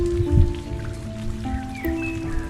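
Rain falls in a steady, close hiss and patter, with soft sustained tones drifting beneath it throughout.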